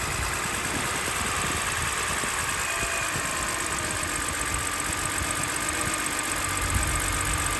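A 2006 BMW 325i engine idles steadily up close after Vanos solenoid and CCV repairs, a continuous even hum with faint mechanical ticking and no talk.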